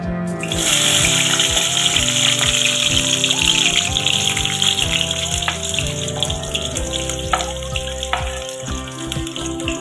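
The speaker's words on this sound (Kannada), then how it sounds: "ನಾವೀಗ ಕಟ್ ಮಾಡ್ಕೊಂಡಿರ್ತಕ್ಕಂಥ ಈರುಳ್ಳಿನ ಹಾಕ್ತಾ ಇದ್ದೀವಿ ಎಣ್ಣೆಗೆ" Chopped onions sizzle steadily in hot oil in a home kitchen, a loud, continuous close-up hiss with occasional clinks and scrapes of a utensil against the pan, no talking.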